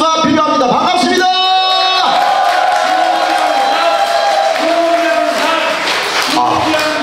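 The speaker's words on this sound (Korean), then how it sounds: "그래서 여러분들 함성과 박수가 필요합니다." A concert crowd at a Chuseok music night at a restaurant in Gangwha lets out loud, sustained cheering and whooping that fills the space, with voices rising and falling continuously throughout.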